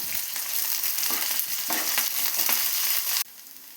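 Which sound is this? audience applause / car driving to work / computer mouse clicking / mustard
mustard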